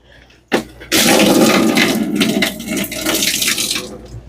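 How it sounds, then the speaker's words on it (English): Water pours steadily out of a removed water filter cylinder, a loud continuous splashing gush that starts abruptly and runs on without pause, with no talk. "go ahead and pour some of it out"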